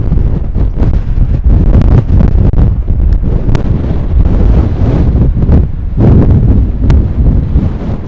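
Strong storm wind buffets the microphone on a golf course, a loud continuous roar with heavy gusty rumble that never lets up, close and overwhelming, with no voices.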